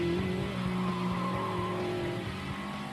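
Race-spec Lotus Sports Elise driving hard on a track, its engine a steady loud drone with shifting pitch throughout, close and continuous.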